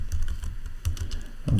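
Keystrokes on a computer keyboard as a command is typed during MariaDB data directory setup on CentOS, quick irregular clicks close to the mic over a steady background hum, with no speech.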